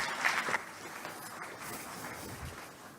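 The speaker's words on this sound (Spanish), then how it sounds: "recibamos con fuertes palmas al doctor José Neira Flores" An audience at a lecture on organized crime and corruption applauds to welcome a speaker, with a moderate, fairly distant clapping that fades slightly toward the end.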